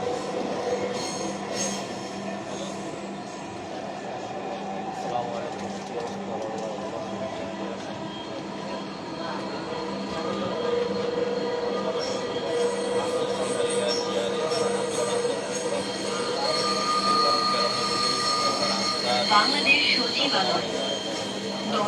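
A metro train at Secretariat station rumbles steadily through the whole stretch, with faint wheel squeal and rising noise toward the end.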